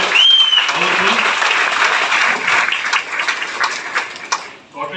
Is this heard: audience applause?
yes